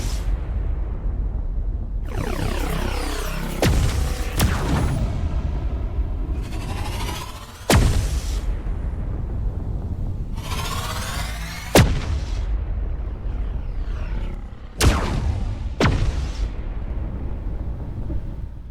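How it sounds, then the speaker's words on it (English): A railgun and laser fire at a target in the Dual Universe space video game: loud, sharp booming shots repeat at irregular intervals, some with sweeping whooshes, over a steady rumbling background. "Fire both the railgun and laser at target C."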